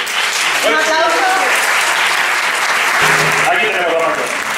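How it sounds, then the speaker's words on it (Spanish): Audience applause at a film awards gala in a cinema in Tembleque, heard as a dense, steady wash of clapping with a few voices calling out over it. "Un aplauso."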